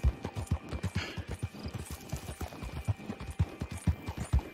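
A horse's hooves clip-clop in a steady, even walking rhythm, close and distinct, each footfall a sharp knock repeated throughout with no talk over it.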